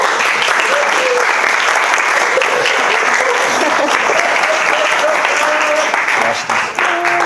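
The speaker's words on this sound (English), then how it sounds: "A round of applause for Katie" A crowd at a speech gives a round of applause, dense clapping that stays loud and steady for several seconds with voices mixed in.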